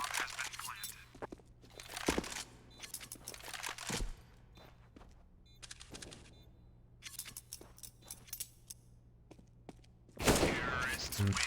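Gunfire in a Counter-Strike match on the Mirage map, sharp shots in scattered bursts under a commentator's talk, ending with a louder flurry of shots.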